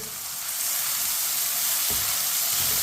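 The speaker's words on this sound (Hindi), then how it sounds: "एक चम्मच कुटा हुआ अदरक डाल लेंगे। मिक्स कर लेंगे।" Crushed ginger sizzles in a hot pan with a dense, steady hiss, and a single stir scrapes through near the end, close and loud.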